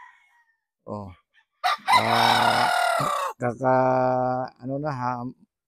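A 13-month-old Boston Roundhead rooster crows loudly and close by, with one long drawn-out crow flanked by shorter calls and clucks, and no other sounds around them.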